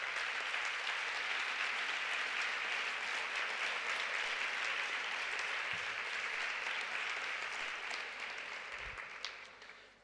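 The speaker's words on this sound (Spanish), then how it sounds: "Yo os pediría un aplauso para él." A large conference audience applauds continuously for several seconds, loud and dense, tapering off at the end.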